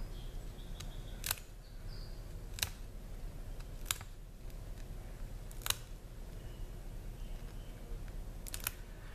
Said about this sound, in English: The reason we cut along this area is because the cervical groove provides a nice weak point along the carapace.